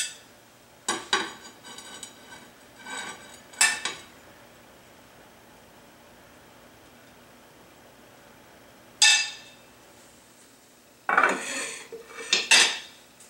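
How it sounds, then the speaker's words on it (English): Blasted broccoli being served onto a plate: a few separate bursts of cutlery scraping and clinking against dishes, close and fairly loud, with quiet gaps between them. "let's dish him up some blasted broccoli as well"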